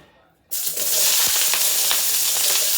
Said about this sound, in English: I think this pot is a tad bit too hot, but medium is what you need to be on. We're going in first with the onions.